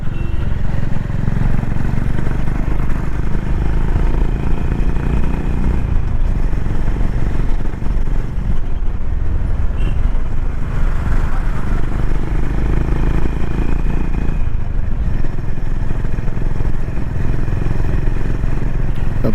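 Honda H'ness CB350 motorcycle ridden on the road with an updated chain and sprocket, its engine droning loud and close throughout with rising and falling revs through gear changes, plus wind and mechanical clatter.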